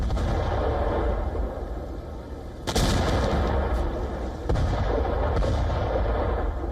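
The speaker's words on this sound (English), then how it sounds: "The first explosions shattered the silence before dawn." Dull booming missile blasts in Kyiv before dawn sound over a constant low rumble, one sharp report then another a couple of seconds later, distant and heavy.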